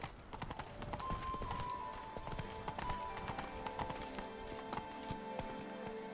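Rapid, rhythmic hoofbeats of a galloping horse in the video game The Witcher 3: Hearts of Stone, crisp and close, continuing steadily throughout with a brief whinny early on.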